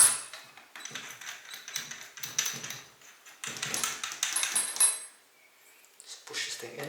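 Scissors snip through excess material close by in a series of short, irregular cuts with brief pauses, during work on a scratched action camera lens.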